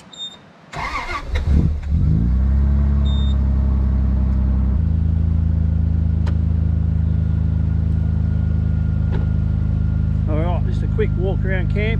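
A car engine at a bush campsite cranks and catches after a few seconds, then settles into a loud, steady warm-up idle close by, with brief voice-like sounds near the end.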